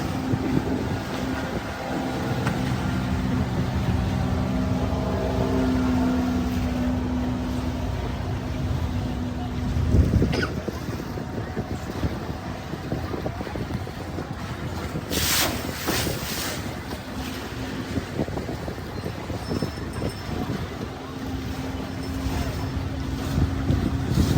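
A small boat on the backwaters of Alappuzha, Kerala, drones with a steady low engine hum, mixed with wind rush and water noise, continuing for the whole stretch.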